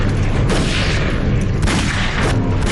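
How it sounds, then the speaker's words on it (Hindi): Soldiers open fire in a battlefield sound effect of a border clash, with loud, dense booming volleys of gunfire rolling continuously close by and sharper bursts breaking through, no voices. "फिर अचानक बंदूकें निकालकर गोलियां चलानी शुरू कर दी।"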